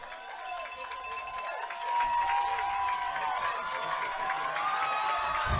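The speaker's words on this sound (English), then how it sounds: "It seems like this Lynchburg crowd's having a good time." Lynchburg fans cheering at an ODAC championship men's soccer match between the Lynchburg Hornets and Washington and Lee Generals, a steady roar of a large crowd with whistles and shouts that swells louder about two seconds in and holds.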